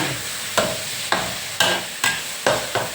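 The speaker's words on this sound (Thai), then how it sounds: "กุ้งตัวใหญ่เราใส่ลงไปค่ะทุกคน" Large shrimp tossed in a frying pan for a stir-fry with soft tofu and mixed vegetables: a steady sizzle broken by six sharp scraping strokes of the spatula at a regular pace.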